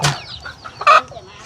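Chickens cluck and squawk close by, a couple of short bursts with one loud squawk near the end, brief and sharp against a quiet background.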